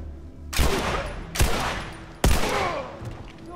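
Three loud gunshot blasts, each followed by a ringing decay, spaced about a second apart in The Last of Us: Remastered on PS4.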